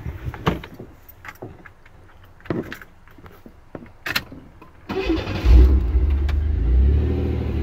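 A 1995 Chevrolet Camaro convertible with a freshly installed battery cranks with scattered clicks and clatter, then catches at about five seconds into a loud, steady idle that holds through the end.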